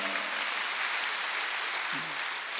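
A church congregation at a Wednesday worship service claps in a broad, even wash of applause, heard somewhat distant and lasting only a couple of seconds.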